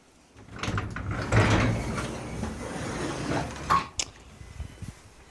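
A door to a garage room crammed with bikes and garden clutter is opened with a mechanical latch click and a sliding scrape, followed by a few knocks and clunks, fairly close and moderately quiet.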